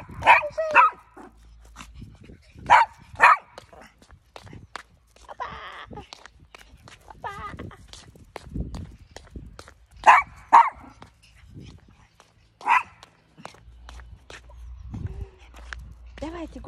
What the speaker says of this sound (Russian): Ой, собака такая злая!